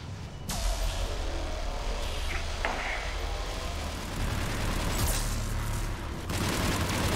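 Rapid bursts of gunfire and heavy booms from a Mass Effect 3 battle, loud and continuous over a rumbling soundscape.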